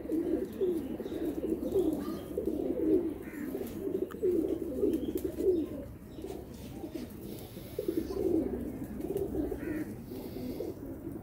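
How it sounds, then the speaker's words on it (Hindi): A sturdy golden pigeon kept for breeding coos repeatedly. Its soft, low, rolling calls come in a steady rhythm, close and clear, over faint background noise. "देखिए जी ये गोल्डन कबूतर हम आपको दिखा रहे हैं"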